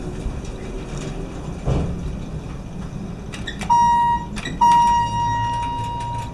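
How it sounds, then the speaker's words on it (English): A Dover Impulse hydraulic elevator sounds two clear, near electronic chime tones in succession at a building on Lan Drive in Westford, Massachusetts, over quiet cab hum. "Door closes after its chime."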